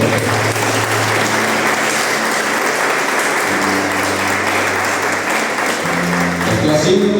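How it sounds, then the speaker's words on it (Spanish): Loud, sustained applause fills a church as the congregation claps for the Lord, a dense continuous roar of many hands with faint background tones, held at even strength throughout. "Denle un fuerte aplauso al Señor"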